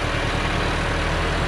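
A Landini 8880 4x4 tractor with an 80-horsepower Perkins diesel engine idles, giving a steady, low, rumbling drone up close with no voices over it.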